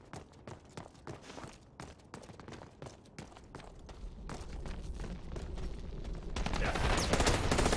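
Video game gunfire rattles through a shootout, quick bursts and single shots at moderate level amid footsteps, building into a louder, denser barrage near the end.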